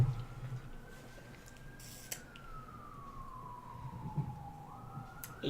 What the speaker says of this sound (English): It's an ambulance, it's fine.